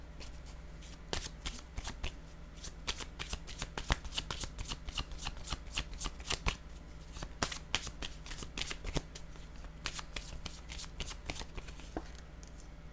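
A deck of tarot-style cards is shuffled by hand at close range, a steady run of crisp riffling flicks and snaps lasting throughout, with no talk over it.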